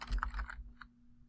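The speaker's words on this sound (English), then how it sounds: "We'll just type bless." A short burst of typing on a computer keyboard: four or five quick close key clicks and then one last separate tap, quiet and alone.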